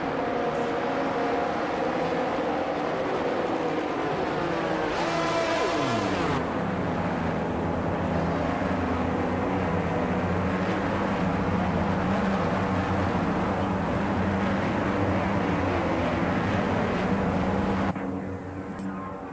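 Formula One cars at the 2022 Bahrain Grand Prix rolling toward the starting grid, a steady loud engine drone with one car sweeping past near the middle and engine tones shifting as they pass.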